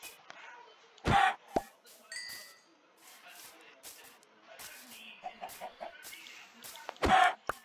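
Chicken clucking in the video game Minecraft: a few short, sharp clucks spaced apart, with two louder bursts near the start and end, plus faint game sounds and some quiet talk.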